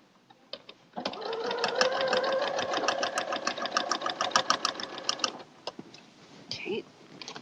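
A sewing machine stitches quilt binding on a log cabin quilt in one steady, close, rhythmic run of about four seconds, followed by a few clicks and handling sounds.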